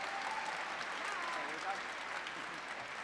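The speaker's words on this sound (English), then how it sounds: "let's give a big round of applause to Mr. Jomek and our Lancers" A graduation ceremony audience applauds steadily for the school jazz and concert bands, a dense, even wash of clapping throughout with faint voices mixed in.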